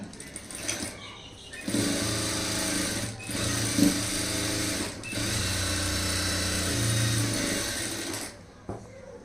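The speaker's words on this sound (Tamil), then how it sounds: "இப்போ நம்ம இதில் ஓவர்லாக் போட்டுடலாம்" An overlock sewing machine stitches the side seam of a high neck blouse in steady whirring runs lasting several seconds, pausing briefly between bursts, with a voice speaking faintly underneath.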